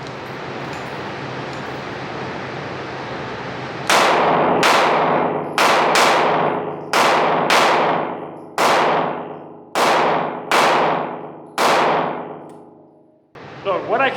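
Shots from an H&K VP9sk pistol fire in a quick series of about ten sharp, loud cracks, each ringing out before the next, over a steady background hum.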